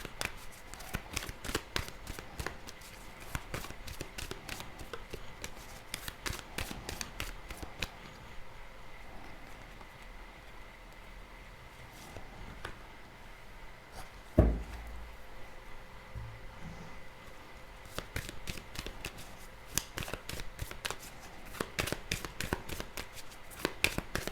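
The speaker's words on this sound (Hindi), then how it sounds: "अब हम ऑरेकल डेक से कार्ड्स निकालते हैं।" Oracle deck cards are shuffled and drawn at close range, with rapid, repeated riffling bursts, brief pauses and a single sharper tap midway, and no talk.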